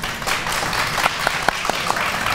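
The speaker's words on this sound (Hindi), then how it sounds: "सो तालियों से पता चलेगा कि कौन सी सीखें जीती हैं" Studio audience applause at an Eid television show, loud and continuous for a couple of seconds, with a few sharper individual claps standing out.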